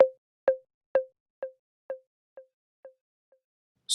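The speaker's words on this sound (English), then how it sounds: "Lastly, we'll add one high conga hit." Single high conga hit tuned to C, run through an echo effect in a beat production, repeating about every half second and fading steadily over several repeats, alone in silence.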